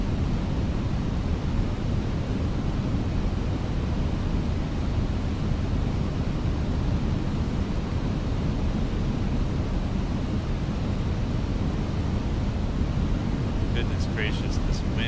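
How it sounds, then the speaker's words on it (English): Strong wind buffeting an aircraft on approach to Chicago in a flight simulator, a loud, steady roaring rush with no breaks, and a few faint clicks near the end. "this wind is wild. And there's a lot of wind"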